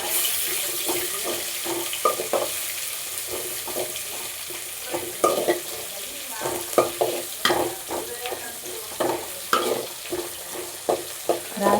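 Green chilli frying in a pan for capsicum rice, with a steady sizzle under repeated scraping stirs that come in uneven bursts, close and fairly loud, no talking.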